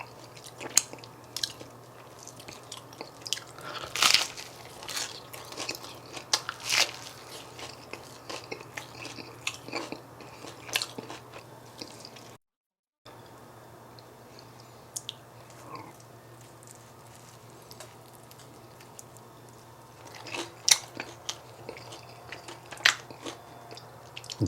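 Close-up bites and crunching chews of a crispy grilled cheese sandwich made with toast, pesto and roasted tomato, repeated irregular crunches over a faint steady hum, one short silent gap midway, and no talk.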